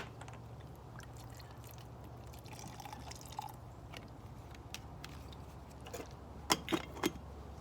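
A splash of rum is poured into a drink, heard as faint liquid trickles and a few small drips and clinks over steady background hum.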